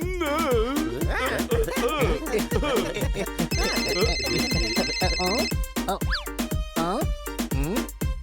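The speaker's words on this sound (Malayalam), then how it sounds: "താങ്കൾ ആരോ ഫോണിൽ വിളിക്കുന്നുണ്ട്" A phone ringtone rings over busy cartoon voices and music in a children's animated comedy, with electronic tones sounding between lively, overlapping talk.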